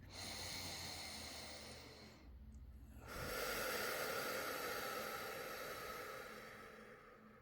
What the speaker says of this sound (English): take a breath in through the nose, exhale through the mouth